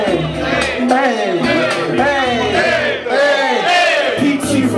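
A live lounge show audience cheers and whoops loudly together, a dense, continuous roar of many voices hollering at close range.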